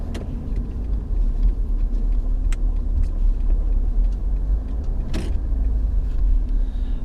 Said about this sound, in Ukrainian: А їде вона добре. Я б сказав би рве з-під себе.